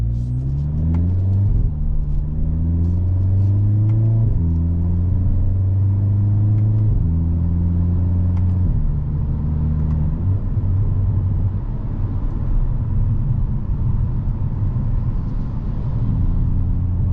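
A 2023 Hyundai Kona N crossover accelerating under load, its engine droning and climbing in pitch, then dropping as the transmission shifts smoothly through several gears before settling into a steady cruising rumble, heard close from inside the cabin with no talking.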